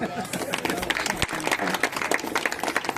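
A crowd claps steadily throughout at a Christmas gathering, a dense patter of hands close by, mixed with voices talking over it.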